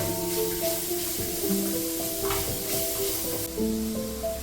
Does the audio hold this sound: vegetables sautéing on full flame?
yes